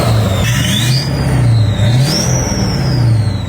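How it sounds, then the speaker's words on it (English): A 6.6 liter Duramax diesel with a 65 mm turbo revs up and down close by, its deep engine drone rising and falling over a loud whistling turbo whine that sweeps up twice. "Got a 65 millimeter turbo that sounds like this"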